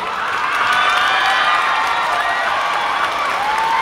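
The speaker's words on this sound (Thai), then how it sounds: "ขอเสียงปรบมือต้อนรับครับ" A crowd at an outdoor political rally in Khon Kaen claps and cheers to welcome a speaker, a continuous, even roar of applause and shouts with no pauses.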